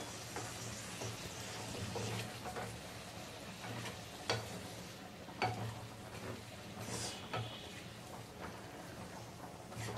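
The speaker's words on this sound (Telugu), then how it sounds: "ఇప్పుడు సన్నగా తరిగి పెట్టుకున్న టమాటా ముక్కలు కూడా వేసి ఒక 2 నిమిషాలు అయితే ఫ్రై చేసుకోవాలి" Chopped tomatoes and peas fry in a pan for a vegetarian matar paneer, a quiet, close sizzle with occasional sharp clicks and scrapes from a spoon stirring against the pan.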